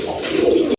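A single short pigeon coo, close and clear, a soft low throaty call lasting under a second.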